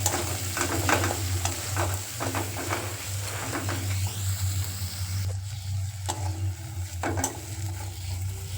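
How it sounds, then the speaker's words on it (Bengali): Spice paste with chopped tomato, salt and turmeric stir-fried in a pan for a fish curry, a steady sizzle under repeated close scraping and stirring strokes throughout. "এবার মশলাটা খুব ভালো করে কষিয়ে নেবো"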